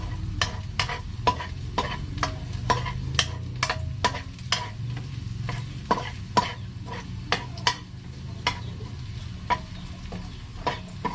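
Garlic stir-fries in a pan under a continuous low sizzle, with sharp clinks and scrapes of a utensil against the pan in an irregular rhythm, close and without talk.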